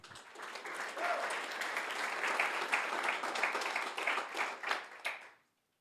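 An audience at a pitch competition claps for several seconds, a moderate, steady burst of applause that swells briefly and then cuts off abruptly.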